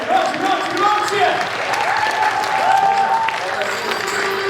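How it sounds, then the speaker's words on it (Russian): An audience at a festive concert applauds as a delegation from Yekaterinburg is welcomed, a dense sustained clapping that fills the hall while a host's voice rings out over it. "Ваши громкие аплодисменты!"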